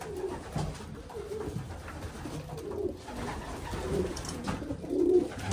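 Soft, throaty coos from racing pigeons repeat through the clip, several birds in a loft murmuring close by with a faint rustle in the background and no talking.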